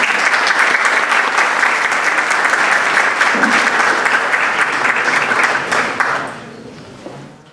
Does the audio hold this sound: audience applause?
yes